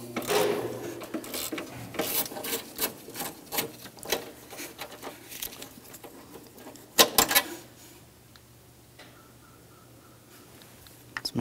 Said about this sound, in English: We'll use our 8mm to loosen all three of these.